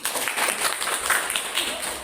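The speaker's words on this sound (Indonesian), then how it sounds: "beri tepuk tangan untuk kita semua" Classroom applause as students and teacher clap together after agreeing on class rules, a dense patter of many hands at moderate loudness with voices mingled in.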